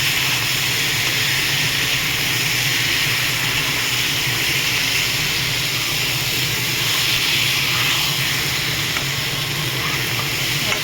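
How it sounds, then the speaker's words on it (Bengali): Meat sizzles in a pan with coriander and cumin powder as it is stirred, a loud continuous hiss of frying with a steady steamy texture throughout, close and unbroken. "ধনের গুঁড়ো, জিরের গুঁড়ো। নাড়াচাড়া করবো ভালো করে।"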